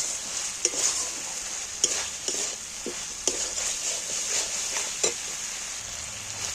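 Spice masala fries in oil for an egg and masoor dal curry, a steady close sizzle broken by repeated sharp spoon scrapes against the pan at irregular intervals.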